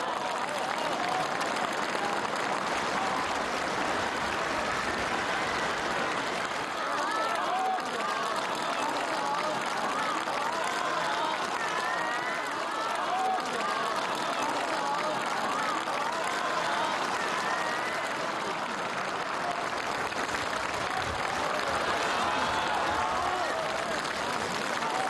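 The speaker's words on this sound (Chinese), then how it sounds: "全场响起长时间的热烈掌声" Long, warm applause fills a banquet hall at the Great Hall of the People as leaders enter to meet party congress delegates, sustained dense clapping from a huge crowd throughout.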